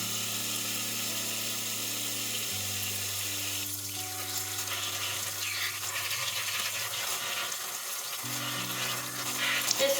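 Water runs steadily from a tap as Alocasia Green Velvet leaves are rinsed, a continuous close hiss and splash with a faint tonal hum underneath.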